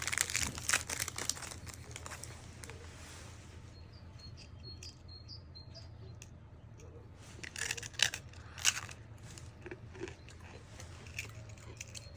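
Paper and plastic wrapping crinkle and rustle close by as a gift package sent from Japan is opened, in bursts at the start and again later, with quieter handling between.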